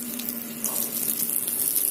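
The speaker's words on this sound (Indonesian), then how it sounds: "Jadi guys, habis menanam pohon jangan lupa disiram dulu." Water pours steadily onto the soil around a newly planted tree in an urban garden plot, a continuous close splashing gush that swells slightly partway through, with no talking.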